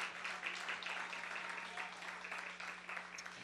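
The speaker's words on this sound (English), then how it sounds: "give him a round of applause." Audience applause at a Black excellence awards ceremony in Milwaukee, a steady wash of clapping hands sustained at even level throughout, with a low steady hum beneath.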